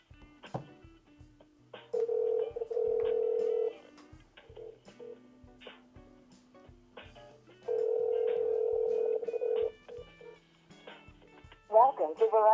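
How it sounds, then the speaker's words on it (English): Ringback tone from a Motorola Razr placing a call over LTE to another phone, two long steady tone bursts with a pause between, under faint handling clicks and a low background voice. "I'm just calling my other phone number."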